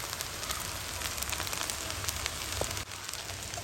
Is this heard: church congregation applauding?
no